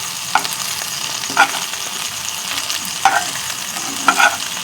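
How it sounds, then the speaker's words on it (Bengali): Lote fish pieces fry in hot oil with a steady close sizzle, broken by four distinct scraping clinks as each piece is flipped over in the pan, and no voices. "এরকম উল্টে উল্টে সবগুলো এখন সুন্দর করে ভাজা করে নেব"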